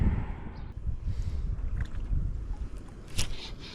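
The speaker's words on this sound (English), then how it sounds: "that wind is picking up." Wind gusts across a lake while fishing for walleye from a boat in bad weather, a steady low rumble with broadband buffeting on the microphone, close and continuous, with occasional brief knocks near the end.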